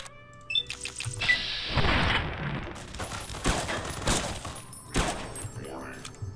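Gunfire from a gun in the video game Fallout: New Vegas: several sharp, loud shots and impacts crack out over about six seconds, mixed with game clatter and someone talking.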